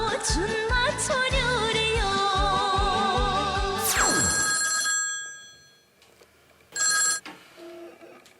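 A telephone rings loudly and steadily in repeated trilling bursts for about four seconds, cuts off, and after a short silence gives one more brief ring.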